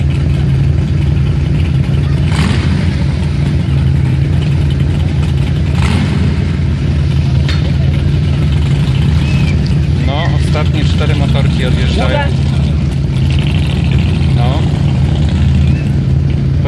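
Motorcycle at a rally being started, then its engine runs steadily at a loud, close idle throughout, with people talking over it now and then.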